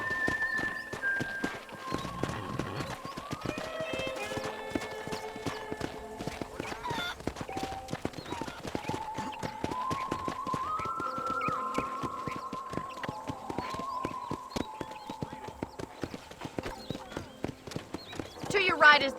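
Steady hoof clip-clop of a horse walking in the video game Red Dead Redemption, continuing under background music and other sounds, with a faint whinny near the start.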